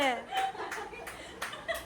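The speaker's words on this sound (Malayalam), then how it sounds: "കയ്യടി പോരട്ടെ ആരെന്താ കൈയടിക്കാത്ത" A few scattered hand claps mixed with laughter and chatter at a family Onam games gathering, sparse and uneven rather than a full round of applause.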